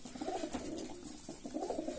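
Pigeons coo softly and repeatedly at close range, with low murmuring calls over a steady background hiss.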